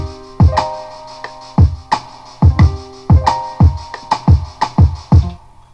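A drum pattern programmed in FL Studio after quantizing, with hi-hats ticking between booming kicks and sharp claps in a steady loop, plus a short melodic layer, loud and close.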